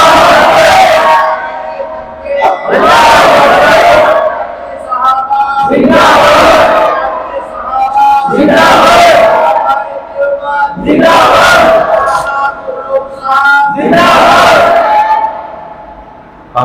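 Large religious gathering answering a preacher with slogans, roaring chants in about six loud repeated waves a couple of seconds apart, each swelling and fading, with murmur between.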